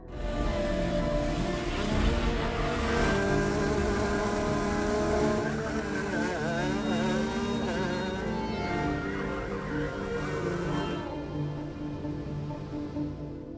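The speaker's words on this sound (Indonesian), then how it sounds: "seorang pria bernama Peter yang sedang latihan go-kart di sirkuit" A go-kart lapping a race circuit in a film: a steady, droning small engine with pitch rising and falling as it accelerates and revs, sustained and fairly close throughout.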